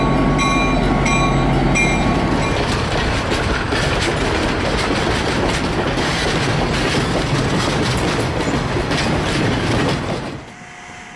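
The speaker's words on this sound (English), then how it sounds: "The train diverges off of the Sierra Railroad and onto its own tracks at Ralph." Pickering Lumber train rolling onto its own tracks at Ralph, off the Sierra Railroad, makes a loud, continuous close rumble with rhythmic clickety-clack wheel beats and a tonal whine at first, ending abruptly near the end.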